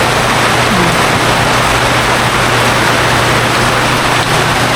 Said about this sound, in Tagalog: Umuulan sa labas, umuulan dito rin sa loob.